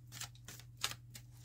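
A deck of tarot cards is cut by hand, giving a few soft, quick riffling flicks and papery snaps, close and faint over a low steady hum.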